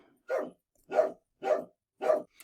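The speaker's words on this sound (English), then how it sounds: "Pickles is barking again." A dog named Pickles barks four times at a steady rhythm, each bark loud and clear, with silence between and a short fifth bark starting at the end.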